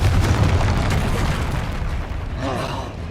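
A Confringo blasting spell explodes in a Harry Potter-style video game, a loud, broad boom that rumbles on and fades slowly over about three seconds, with a fainter rising whoosh near the end.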